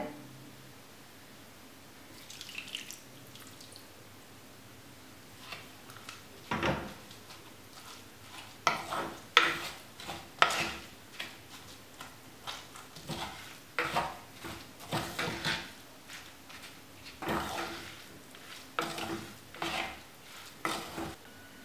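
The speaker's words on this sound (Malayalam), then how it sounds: "കാൽ കപ്പ് വെള്ളം ചേർത്ത് നമുക്കിത് നന്നായിട്ടൊന്ന് മിക്സ് ചെയ്യാം" A spoon scrapes and clinks against a metal pot in repeated irregular strokes, mixing a thick spice paste with water, close by and fairly quiet.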